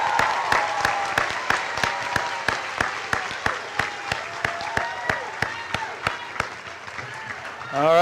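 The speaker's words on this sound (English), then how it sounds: "Let's give them another round of applause." Graduates at a Pitt County Schools PCC Early College graduation ceremony receive steady crowd applause, sharp claps running under a voice talking for the whole stretch.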